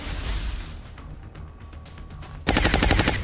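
SMG fire in the turn-based video game XCOM Long War: a sudden loud burst of rapid automatic shots near the end, following a quieter stretch of game ambience.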